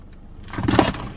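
A bunch of keys jangles and clinks briefly up close, a short metallic rattle lasting under a second.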